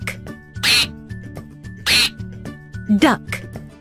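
A duck quacks a few times, short bright bursts spaced about a second apart, over a background of steady tonal hum.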